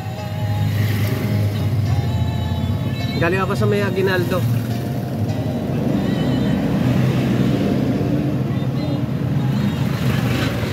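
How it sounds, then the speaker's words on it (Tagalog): Heavy road traffic in a jam rumbles as a loud, continuous drone of cars and motorcycles, with someone talking over it and a brief horn-like tone partway through. "Sobrang traffic, man. Grabe traffic."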